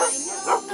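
A single short dog bark, close and clear, sounding in a children's alphabet lesson.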